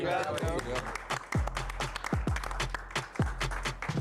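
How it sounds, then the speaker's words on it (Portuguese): An audience at a youth church gathering applauds, giving a dense, crackling wash of clapping over deep, regular thumping beats and a musical backdrop that carries on steadily for several seconds. "Salve de palmas."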